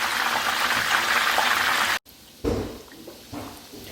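Chicken pieces for pepper chicken deep-fry in hot oil with a loud, dense hiss that cuts off abruptly halfway, followed by quieter bubbling and a few soft bumps.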